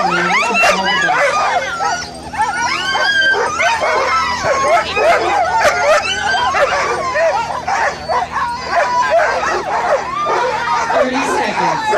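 Sled dogs at the 2017 Yukon Quest 300 start bark, yip and whine excitedly in a loud, overlapping chorus. A commentator talks over the continuous noisy pack.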